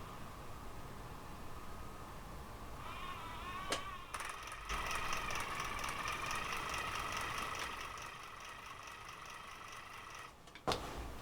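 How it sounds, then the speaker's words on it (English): A small fischertechnik toy motor hums faintly and steadily, its whine rising partway through and continuing quietly alongside a couple of soft clicks. "I hear a motor, but I don't see it."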